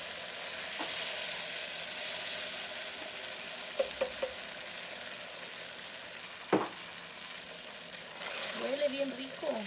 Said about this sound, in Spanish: vamos a echarle aquí la salsa, porque ya la cebolla ya está bien lista